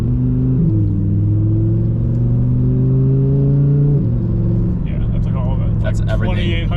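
An Audi R8 RWS engine holds a steady rev around 2,800 RPM with strong low harmonic drone, then the pitch shifts and rises, with scattered higher mechanical whines toward the end; loud and close.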